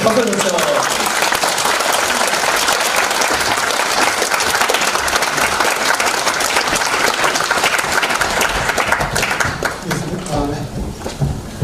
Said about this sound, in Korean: 자, 박수 주세요